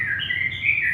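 Bar-winged prinia (ciblek) singing a bright, continuous high-pitched chirping trill, close and clear over faint background noise.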